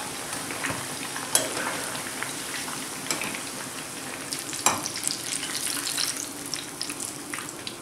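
Pumpkin slices frying in hot oil, with a constant close hiss and crackle and a few louder pops and spits over its length, no voices.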